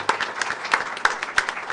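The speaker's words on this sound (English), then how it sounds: "Another round of applause." Scattered audience applause at a board of education awards meeting, with individual claps standing out in a loose, uneven rhythm. The applause is light and moderately close, and no voices are heard.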